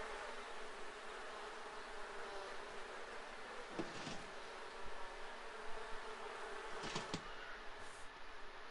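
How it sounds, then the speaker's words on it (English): Angry bees in The Sims 4 buzz in a continuous, steady drone at moderate volume, with a couple of brief game clicks and chimes mixed in and no voices. "The bees are enraged."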